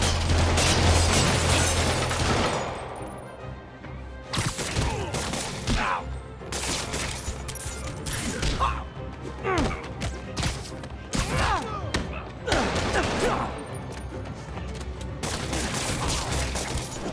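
Gunfire in the Spider-Man Remastered video game, bursts of shots and thuds recurring across a loud, busy action scene with game music and shouting voices underneath.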